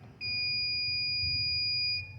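A single steady electronic beep tone from an electrical tester sounds for about two seconds, clear and close, starting and stopping cleanly against quiet background hum.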